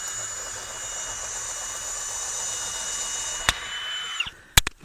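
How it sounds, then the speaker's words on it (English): A power drill bores a hole into the corner of a cooler wall, giving a steady whine that holds for several seconds, then winds down and ends with a few sharp clicks. "we're drilling a hole in each corner there as a starting point"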